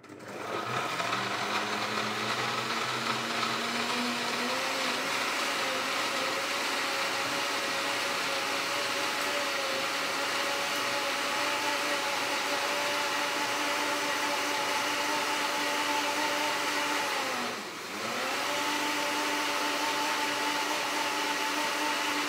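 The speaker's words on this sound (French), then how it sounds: "on va mixer d'abord la partie liquide" A blender whirs as it purées the liquid base for a vegan spirulina burger. The motor runs close, loud and constant, with a brief dip in pitch near the end as the load shifts.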